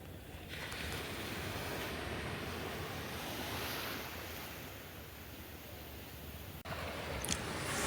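Sea surf at Cox's Bazar beach rolls in as a continuous broad roar, with gusts of wind buffeting the microphone and a brief knock near the end.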